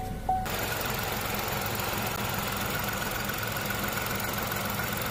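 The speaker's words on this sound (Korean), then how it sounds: "시동 걸어봅니다." A Chevrolet Spark M400 engine, just repaired with a new camshaft position actuator valve, cranks and catches with a short burst, then settles into a steady, even idle heard up close.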